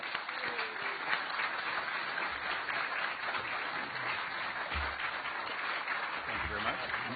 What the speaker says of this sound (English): Let's give them a round of applause, eh?